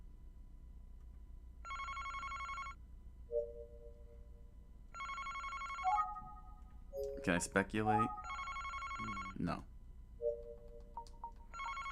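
A telephone rings in a detective's office in the Famicom Detective Club video game, sounding as periodic electronic ring bursts separated by gaps. Short game jingles and talk come in between the rings.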